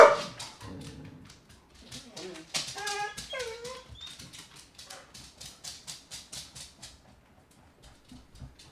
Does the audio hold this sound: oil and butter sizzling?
no